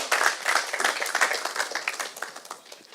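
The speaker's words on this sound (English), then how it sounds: "Round of applause for Cartel" An audience at a business innovation forum claps for a presenter, brisk crisp hand claps from a modest crowd that swell at the start and gradually thin and fade.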